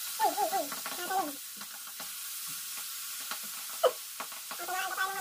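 Tocino fries in hot oil with a steady, soft sizzling hiss throughout, while a voice speaks over the frying at the start and again near the end.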